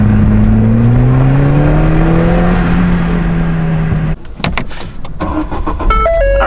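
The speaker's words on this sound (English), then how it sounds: "you press the startup button, you start the car" A car engine revving loudly and steadily with a rising whine, then cutting off abruptly into rattles and a few bright electronic chimes, close and without talk.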